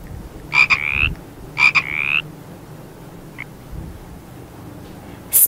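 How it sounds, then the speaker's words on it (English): Two loud frog croaks in quick succession, each a raspy rising call, followed by a faint chirp and a brief sharp noise at the end; no talking. "Frog."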